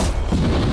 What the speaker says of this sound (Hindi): एक पूरे के पूरे गांव को एक क्रीपर धमाके से उड़ाने वाले हैं